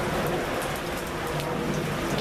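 Heavy rain pours down outdoors over a garden, a dense, steady hiss of drops drumming on surfaces without a break.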